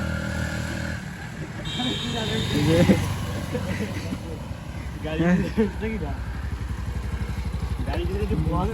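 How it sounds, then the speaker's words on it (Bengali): Motorcycles ride along a village road, their engines droning and rising as they pass nearby, while people talk over the noise. "সবাই বাইক চলা যাচ্ছে"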